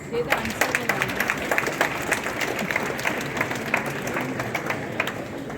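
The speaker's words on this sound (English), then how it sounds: "everyone please give her a round of applause" A crowd applauding steadily at a school Goa Liberation Day celebration, dense clapping that fills the room and stays at an even level throughout.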